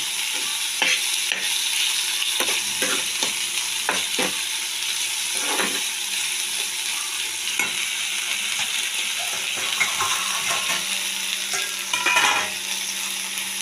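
Mustard greens and mixed vegetables fry with green chilli in a pan, a steady close sizzle running throughout, broken by repeated scraping stirs and a few spoon clinks against the pan.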